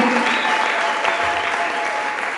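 A church congregation breaks into loud, sustained applause, many hands clapping in a dense, even roar that fades slightly toward the end.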